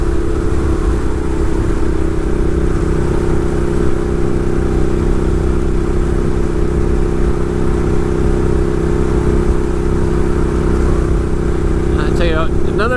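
A Ducati 1098 Streetfighter motorcycle rides along with a steady, loud engine drone and constant wind rush, its note holding fairly even at low pace throughout.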